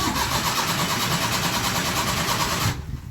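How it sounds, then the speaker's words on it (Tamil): A Maruti Omni van's engine cranks slowly and struggles to start, a continuous rapid whirring churn held for nearly three seconds before it cuts off abruptly into quiet. "சோக்கு போட்டாலும் உங்களுக்கு ஸ்டார்ட் ஆகுறதுக்கு இவ்வளோ டிலே ஆகுது"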